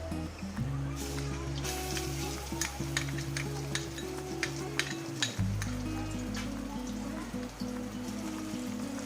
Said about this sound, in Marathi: हे तेलामध्ये व्यवस्थित फ्राय करून घेऊया मसाला